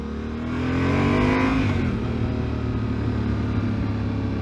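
A 2019 Yamaha Tenere 700 motorcycle engine revving up as it accelerates, the pitch climbing then settling into a steady, moderately loud drone with no voices.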